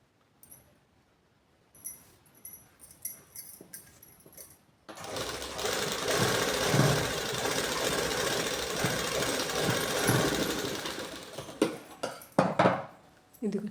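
Sewing machine stitching the back piece of a blouse in a long continuous run, loud and steady, preceded by a few seconds of quiet handling clicks and rustling.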